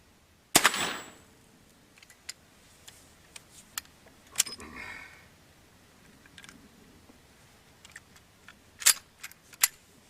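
Gunfire from a Winchester 73 rifle or Colt SSA revolver chambered in 38-40 WCF, with one loud sharp report near the start followed by a few smaller cracks and impacts scattered over ten seconds, outdoors.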